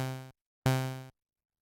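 Two harmonically rich synthesizer notes, each cutting in sharply, fading steadily and stopping abruptly, with a short silence between them; set to 50% decay with zero sustain, and loud and clean with no other sound.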